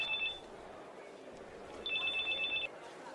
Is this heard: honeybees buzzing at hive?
no